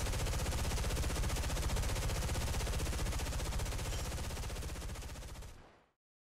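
Twin .50 cal machine guns on an F-84G fire in War Thunder as a loud, continuous rapid burst lasting several seconds, then cut off sharply into silence.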